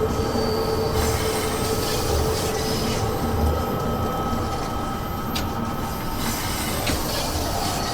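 Train wheels squeal continuously on a 72 Stock Bakerloo Line train in Train Sim World 2, a loud high-pitched screech over a rumbling rail roar, with occasional clunks as the train runs through the tunnel.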